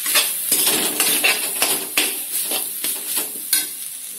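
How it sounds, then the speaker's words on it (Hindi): A metal spoon stirs and scrapes cauliflower with garam masala roasting in a pan, sharp clinks and scrapes recurring roughly twice a second over a steady frying sizzle, close up and without talk. "इसको हम अच्छे से भून लेते हैं ताकि हमारा मसाला अच्छे से पक जाए"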